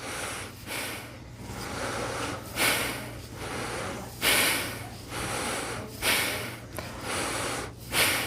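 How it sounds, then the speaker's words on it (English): Powerful, rhythmic breaths through the nose during a breathing and meditation practice class, each forceful snort-like exhale or inhale repeating roughly every second, close and loud with a steady hum beneath. "You can try it breathing powerfully through your nose as well."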